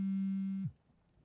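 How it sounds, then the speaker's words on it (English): A phone tone sounds inside the horror game Don't Knock Twice, played on an Oculus Rift: one steady, loud electronic buzzing note held for about two-thirds of a second, then cut off abruptly into quiet room noise. "That's my phone."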